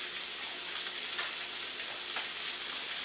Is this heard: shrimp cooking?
yes